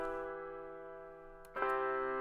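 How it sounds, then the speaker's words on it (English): Piano VST with its low end cut by EQ, thin sustained chord tones ringing before a fresh chord strikes in clearly near the end, alone with no voices. "what I did with the EQ is took away all of the low frequencies of the piano,"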